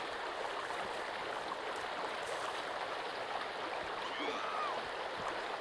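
River flowing in the game Sons of the Forest, a steady, soft rushing of water with a faint hiss, continuous and fairly quiet.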